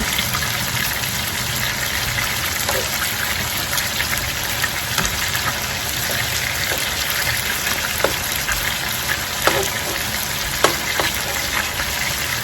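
Chicken, shrimp or salmon sears in a hot pan for pineapple teriyaki, a loud, continuous close sizzle and crackle with scattered sharp pops.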